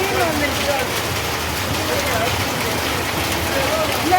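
Heavy rain pours steadily across towns around Coimbatore and Pollachi in Tamil Nadu, a dense continuous hiss with scattered drop patter, loud and close throughout.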